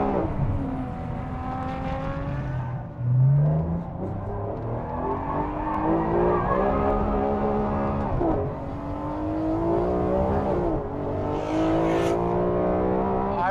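A Ferrari 599 GTO engine revving hard as it is driven on track, rising and falling through repeated climbs in pitch, loud and close with a bark near the end.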